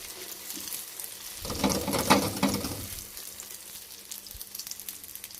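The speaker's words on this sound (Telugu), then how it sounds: "ఇలా మంచిగా సిమ్లో పెట్టుకొని ఎగ్ని బాగా ఫ్రై చేసుకోవాలి" Egg omelette spread over a chapati frying in oil on a low flame, a soft, steady sizzle that swells briefly in the middle then settles back to a faint crackle, with no voices.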